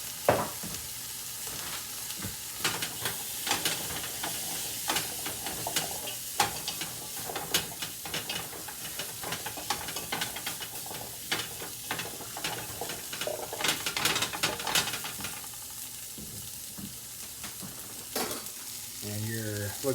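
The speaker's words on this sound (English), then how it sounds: "I'm going to wait till these onions caramelize a little bit before I move forward" Onions frying and caramelizing in a pan for Japanese beef curry give a steady close sizzle, with stirring clatters and scrapes across it the whole way through and no talk.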